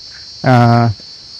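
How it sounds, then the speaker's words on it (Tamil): Insects buzz and chirp at night in the KMTR forest near Mundanthurai, a steady high whine throughout with one louder, brief nearby burst that rises and fades. "சவுண்டு பாருங்கள், நிறைய வண்டு."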